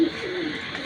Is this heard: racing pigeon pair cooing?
yes